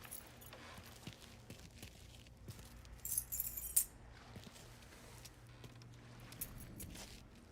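Keys jangle briefly in a scene from the video game Mafia 3, a quick metallic clinking burst lasting under a second amid quiet background ambience and faint shuffling, with no talk.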